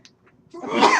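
A single loud sneeze bursts out nearby in a quiet classroom-like setting, preceded by a brief faint intake of breath.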